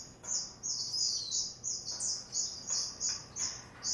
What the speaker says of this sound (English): Just enjoying hearing my birds singing